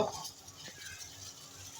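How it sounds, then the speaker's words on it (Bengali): A metal wok clunks down onto a gas stovetop at the start, followed by a faint clink and a low background hiss. "কড়াইটা দিলাম"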